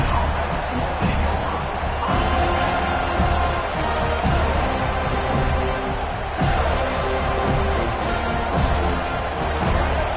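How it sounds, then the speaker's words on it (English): A stadium crowd in a college football video game roars steadily throughout, loud and continuous, with cheering swelling beneath the din. "This crowd trying to make life miserable for this offense."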